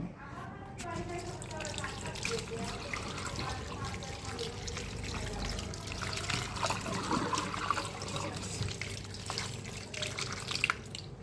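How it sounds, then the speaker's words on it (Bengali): Food is washed under a running tap, with water trickling and splashing steadily close by while people talk over it. "চলো গাইস, ধোয়া যাক"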